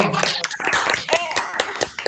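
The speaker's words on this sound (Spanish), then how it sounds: "vamos a darle un aplauso a Samuel." A short burst of scattered hand clapping mixed with people's voices calling out, for a speaker at a talk on river instream flows.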